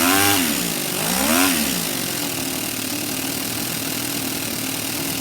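A small Toyan Sand Cruiser model engine revs up twice in second gear, pitch rising and falling, then settles into a steady high buzzing run close by.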